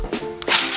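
A ratchet wrench turning the small center bolt during a spring install on an FG4/FB Civic Si, giving a quick close clicking burst that ends in a loud metallic release, all within under a second.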